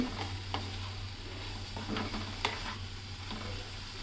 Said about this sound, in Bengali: এরপর আবার একটু নেড়ে চেড়ে নেবেন